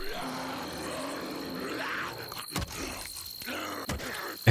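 A bear in the game Days Gone growls low and rough. The growl comes in a few short grunting bursts over quiet ambient background, ending in a louder close growl, with some speech around it.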